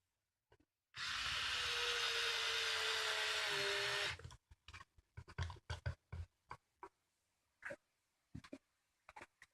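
A screw is driven into wood with a screwdriver, first a sustained loud, steady whir for about three seconds, then a series of short, sharp clicks and ratchety taps close by, with no talking.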